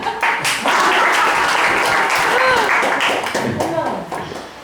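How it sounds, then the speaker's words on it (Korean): An audience claps through a burst of applause that stays fairly loud and then fades slightly, with voices mixed in. "박수."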